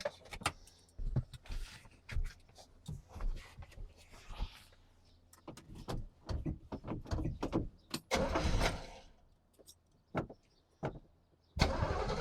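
A 1967 Corvette, left sitting for 38 years, cranks and catches in loud, uneven bursts close by, sputtering and revving with short pauses between attempts.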